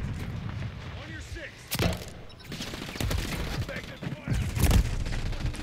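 Gunfire from the JAK Lance weapon in a video game, hip-fired and aimed down sights: repeated sharp bursts and single booming shots over several seconds, loud and close, with a voice talking over parts of it.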